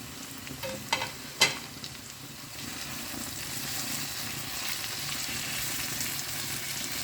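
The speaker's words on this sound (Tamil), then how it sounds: "கொஞ்சம் வதங்கிட்டோம்." Green chillies and green bell peppers sautéing in a pan, a steady soft sizzle with a few sharp clinks of a spoon at the start, fairly quiet and close, no talking.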